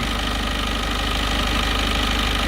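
A 2018 Peugeot Expert van idles close up during diagnosis of a P0340/P0341 camshaft position sensor fault, giving a steady, dense mechanical hum with a slight knocking pulse.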